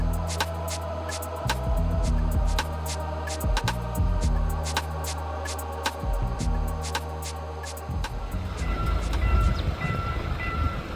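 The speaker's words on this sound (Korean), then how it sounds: "요란하게 울리더니 새마을호가 순식간에 지나갑니다" A Korean Saemaul train rushes past a railway level crossing as the crossing bell rings steadily, its clanging rhythm giving way near the end to a loud, swelling rumble of the passing cars.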